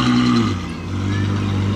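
A Ferrari V12 fitted with a Novitec exhaust rumbles loud and close on a Monaco street, holding a deep, steady drone that dips briefly and then settles.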